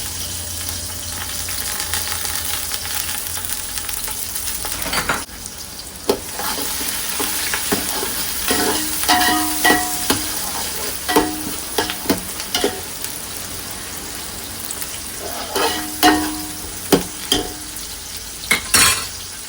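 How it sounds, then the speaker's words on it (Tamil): Onions sizzle in hot sesame oil in a pan for Chennai crab curry, a constant frying hiss broken by repeated sharp scrapes and clinks of a spoon stirring, growing busier toward the end. "எண்ணெய் சூடாகிடுச்சு, வெங்காயம் போட்டுருணும்"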